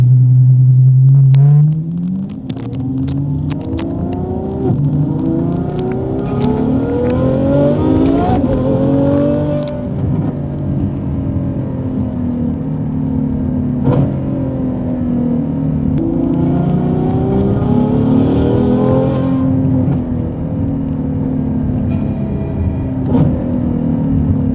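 Ferrari F12 fitted with an IPE exhaust, its engine revving hard and loud close by, with rising and falling pitch sweeps and sustained high-rev roars, no speech.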